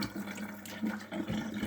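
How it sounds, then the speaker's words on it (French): Aquarium water is poured out while rinsing, a short close splashing flow of water that gurgles and sloshes unevenly. "quand je coule l'eau de l'aquarium, vous voyez"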